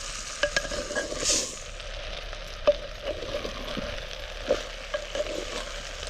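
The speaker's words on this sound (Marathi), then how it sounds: "तांदूळ पण आपल्याला एक मिनिटभर चांगला परतून घ्यायचा भाज्यांबरोबर" Rice tossed with vegetables in a hot pan, a soft continuous sizzle with occasional scraping stirs and light taps of a spoon, close but fairly quiet.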